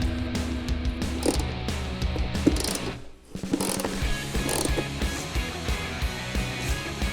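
A hand ratchet works an air box bolt on an LT500R quad, clicking rapidly and steadily up close, with a short pause midway before the ratcheting resumes.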